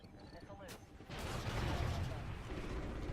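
A missile launch and its explosion in the video game Ghost Recon: a soft whoosh, then a sudden loud blast at about one second that rolls on as a dense rumbling roar, with faint radio-style voices early on.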